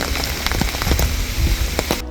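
Steady rain falls on Miyajima, Japan, a dense hiss of drops on surfaces with scattered louder patters, continuous and close, with no voices.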